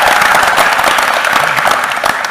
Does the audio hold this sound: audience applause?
yes